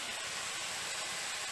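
Onions frying in hot oil left over from browning chicken for a Chicken Madras gravy, a dense, steady, close hiss and crackle with no talking.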